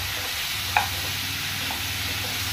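Breadfruit being mixed in a pan, a continuous sizzle with a single sharp clink of a utensil against the pan partway through.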